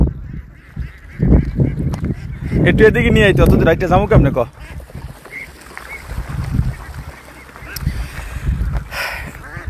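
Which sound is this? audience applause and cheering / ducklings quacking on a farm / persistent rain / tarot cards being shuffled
ducklings quacking on a farm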